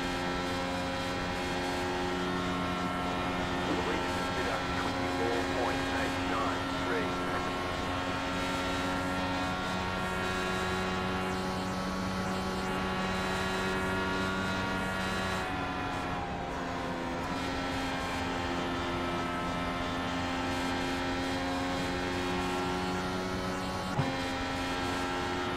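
A high-revving IndyCar engine in the iRacing game at Texas, held in sixth gear, whines continuously at a steady pitch, holding a sustained tone with only slight variations, loud and close with no talking.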